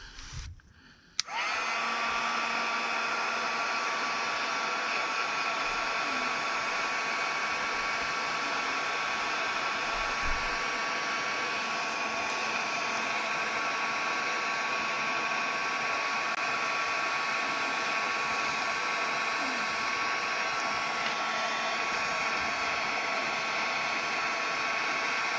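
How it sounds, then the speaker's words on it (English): A heat gun melting embossing powder blows with a loud, steady whooshing roar that starts abruptly after a brief click and runs on continuously and unchanging. "Now let's get the heat gun here."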